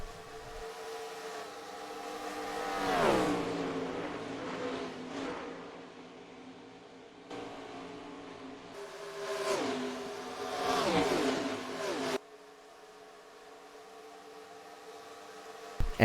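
Race car engines roar in the NASCAR Racing 2003 video game, two loud passing surges that swell and fall with shifting pitch, over a steady engine drone that cuts off abruptly near the end.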